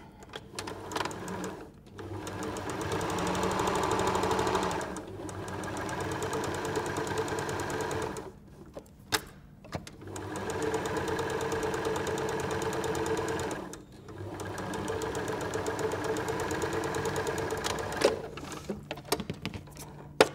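A sewing machine stitching the ears onto a fabric egg cosy runs in several sustained bursts separated by brief pauses, with a steady mechanical whir close by and no talking.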